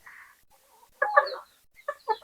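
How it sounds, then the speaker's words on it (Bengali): A chicken clucks close by in short bursts, a couple of soft calls followed by louder throaty clucks, with quiet pauses between. "এটা আমার হলো ব্রয়লার মুরগি।"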